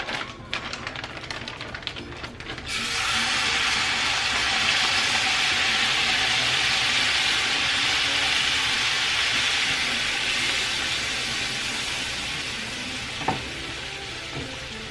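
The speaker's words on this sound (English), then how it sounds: "Once we've melted the butter, we're going to add our shrimp" Shrimp dropped into melted butter for honey butter garlic shrimp, with a few clinks first, then a loud, steady sizzle that holds close and even to the end.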